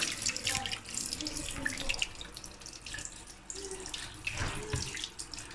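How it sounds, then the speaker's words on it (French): A filter rinsed under a running tap, with close, splashy water pouring and spattering that shifts as the filter is turned in the stream, alone without talk. "Ici le filtre, on le retire et on le passe pareil sous l'eau."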